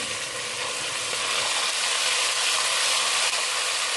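Garlic-ginger paste fries with browned onions in a hot pan, giving a loud, dense, continuous close sizzle that holds steady throughout with no talk.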